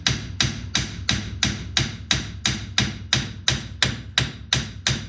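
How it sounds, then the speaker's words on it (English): Gentle hammer taps on the steering parts and bushings of an International Harvester Scout II during a manual to power steering swap, about a dozen evenly spaced metallic blows close by, each with a short ring and no talk. "I'm not going too ham with this hammer because there's bushings and stuff in here I don't want to wreck"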